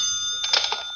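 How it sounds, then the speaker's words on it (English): An old telephone rings in a radio mystery drama, a steady electronic trill with a bell-like jangle swelling in the middle, close and clear with no one speaking. "Oh, that's my phone."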